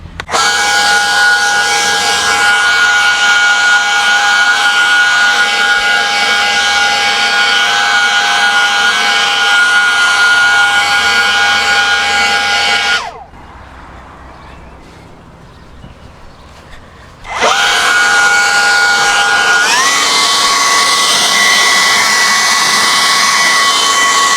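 A LawnMaster MX 24 V cordless axial leaf blower runs loud and close with a steady high whine and rushing air. It drops to a low idle for a few seconds, then surges back to full power.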